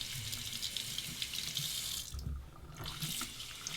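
A razor is rinsed under a running bathroom sink tap, water splashing steadily and quietly, with a brief change in the flow midway as the razor moves under the stream.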